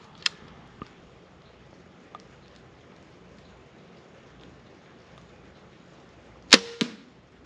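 A crossbow bolt with red fletching is loaded and fired during a wild boar hunt on a ranch in pouring rain: a few faint clicks, then one sharp, close shot near the end over quiet rain.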